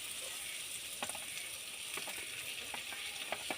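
Chopped onion frying with ginger-garlic paste for a banana and potato bara curry gives a steady, close broadband sizzle, with a few soft spatula scrapes and taps breaking through the hiss.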